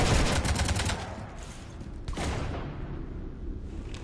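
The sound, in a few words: gunfire shooting up a ship in video game Mass Effect 3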